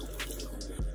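Splashing and dripping water as a face is rinsed with too much water over a sink, a few close wet spatters followed by a heavier low splash near the end.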